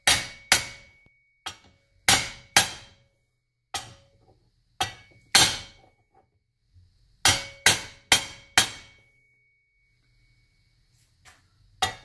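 A hammer strikes a makeshift punch while a mini bike is taken apart, about a dozen sharp metallic clanks in irregular clusters separated by silent gaps, loud and close.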